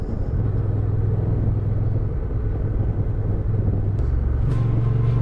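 A Honda Transalp 750 motorcycle rides a twisty mountain road in Lam Dong, its engine a steady low drone with wind rush that shifts pitch slightly toward the end; no voices.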